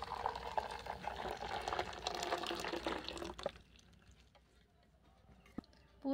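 Blended watermelon paste pours into a bowl with a soft, wet gurgling splatter that runs for a few seconds and then cuts off, followed by faint clinks and small handling sounds, close and quiet.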